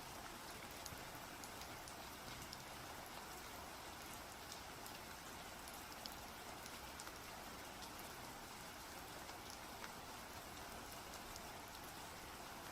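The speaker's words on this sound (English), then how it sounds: "Right now it's just rain sounds, there's no music." Steady rain falls alone in the background of a live acrylic painting session, a soft continuous patter of drops hitting a surface, quiet and even throughout with no voices.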